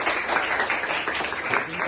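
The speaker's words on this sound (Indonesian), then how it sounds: "Ayo tepuk tangan buat Pak Agus." Audience applause at a gathering in Indonesia, a dense, steady wash of many hands clapping at moderate loudness throughout, with faint voices mixed in.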